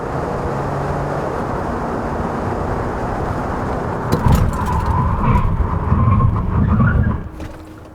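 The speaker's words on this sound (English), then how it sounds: "let's check out the braking performance of Kia Sedona diesel" A Kia Sedona 2.2 diesel minivan brakes hard on 235/55 R19 tyres. A steady engine and road drone runs throughout, then a louder surge with tyre noise builds and drops away as the van stops.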